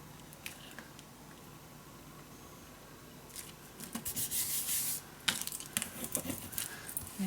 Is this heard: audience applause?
no